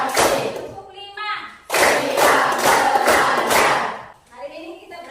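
Schoolchildren in a classroom clap hands in unison to a counted rhythm, several loud clustered bursts with the teacher's voice speaking in the gaps between rounds.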